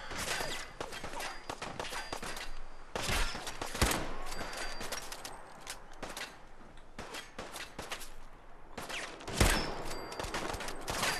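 Gunfire in the video game Fallout 4, with repeated bursts of shots cracking out in rapid clusters over a steady background of combat noise, a few heavier blasts standing out loud and close.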